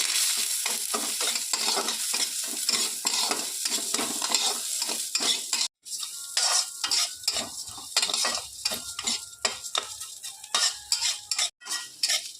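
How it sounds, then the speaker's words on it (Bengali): Gobindobhog rice being fried in a spoonful of ghee while cooking cauliflower muri ghonto, with steady sizzling and repeated scraping stirs of a spoon against the pan, close and continuous with two brief pauses. "1 চামচ ঘি দিয়ে আমি গোবিন্দভোগ চালটা আমি একটু ভেজে নেব।"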